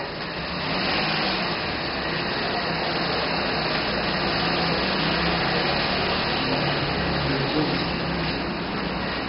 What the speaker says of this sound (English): As the vehicle moves out of the gate,